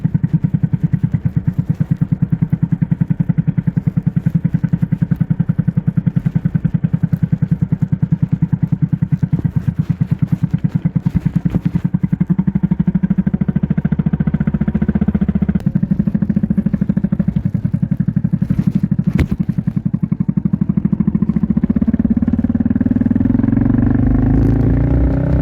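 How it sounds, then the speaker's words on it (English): A Kawasaki Vulcan 400 Classic motorcycle engine throbs with a steady, close, rhythmic rumble for a long stretch, its pitch climbing toward the end as the bike pulls away. "enjoy this bike, the sound of this bike as it tracks away"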